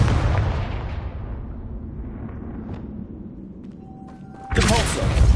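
A Confringo fire spell blasts during Hogwarts Legacy gameplay: a sustained rumbling, explosive roar fills the scene, then a second, sharper burst bursts in loud and bright near the end.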